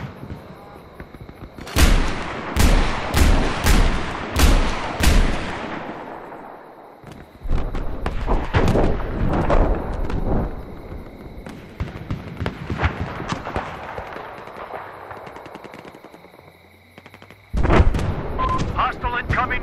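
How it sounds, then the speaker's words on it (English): Machine gun fire on a night map in the game Battlefield 4, several loud bursts of rapid gunshots with echoing booms between them, under occasional radio-style voices. "there's a hostile machine gunner."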